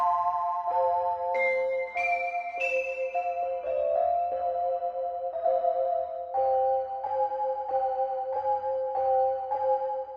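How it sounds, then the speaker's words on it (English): Slept On Bells, a synth bell preset by Lewis Flynn and Eli Brown, plays a slow run of clear ringing bell notes that step between pitches and sustain with a soft shimmering decay, alone with no voices. "So the first sound I used was this Slept On Bells by Lewis Flynn and Eli Brown"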